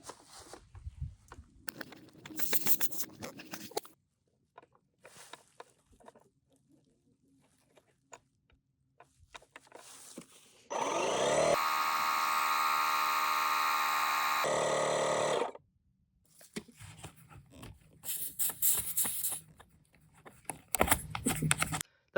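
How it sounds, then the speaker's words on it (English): A portable air compressor inflates a low lawnmower tire, its motor running as a steady, loud, harmonic buzz for about five seconds, framed by quiet clicks and handling noises before and after. "So here I have actually a low tire on our lawnmower. So I'm going to pump this up."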